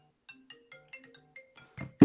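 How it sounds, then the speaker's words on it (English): A phone ringtone from an incoming call plays as a short series of clear electronic tones, quiet and even, ending in a couple of louder bursts. "I will now try to call myself and see if the phone call works"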